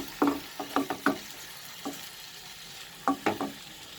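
Chicken curry with potato and peas, seasoned with salt, is stirred in a pan over the heat: a few soft scraping stir strokes come in two short clusters over a quiet, low sizzle.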